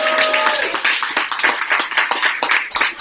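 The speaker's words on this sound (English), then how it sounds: "Can we give Tanya a round of applause" Audience applause at an evening arts event, a dense burst of many hands clapping that fills the room steadily from start to finish, loud and close, with no talk over it.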